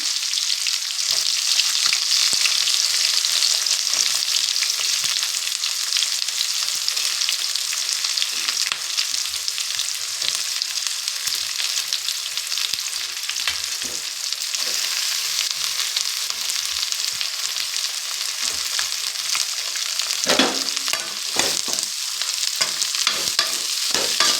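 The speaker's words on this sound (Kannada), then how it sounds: "ಈರುಳ್ಳಿ ಸ್ವಲ್ಪ ಚೆನ್ನಾಗಿ ಫ್ರೈ ಆಗಲಿ." Onions fry in a pan with mustard seeds and curry leaves, giving a loud, continuous sizzle while they are stirred, with scraping strokes of the spatula near the end and no talking.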